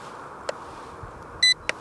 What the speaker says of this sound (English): Do you hear that beep?